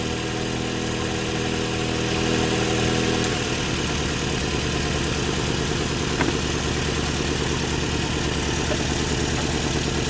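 A Toyota Caldina ST215 with a 3S-GTE turbo four-cylinder idles steadily and evenly after an ignition coil repair, a close, continuous rumble with a slight drop in idle speed partway through and no talking.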